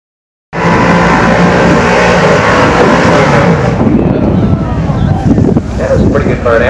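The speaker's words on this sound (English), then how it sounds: "pretty good burnout." A Chevrolet doing a long, smoky burnout at Maple Grove Raceway drag strip, a loud sustained roar of engine and spinning tires, rough and wind-buffeted, with a voice faintly underneath.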